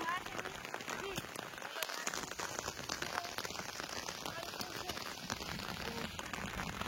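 Steady rain pattering on leaves and ground in a potato garden, dense and continuous, with a few louder drops and crackles close by.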